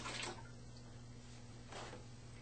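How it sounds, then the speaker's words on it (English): Water is poured into groundwater well containers of a tabletop environmental model, giving two faint, brief splashing bursts over a quiet hum. "Fill the groundwater well containers half full of water."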